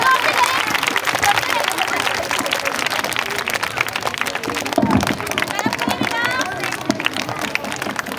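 Audience at a school Independence Day function applauding as a guest is called to the stage: dense, sustained clapping from a sizeable crowd with some background chatter, lasting throughout.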